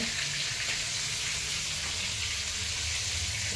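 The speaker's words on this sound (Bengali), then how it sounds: "এবার ইলিশ মাছগুলো ভাজি" Hilsa fish fry in a pan with a constant, loud, dense sizzle that holds evenly throughout, close by and with no talk.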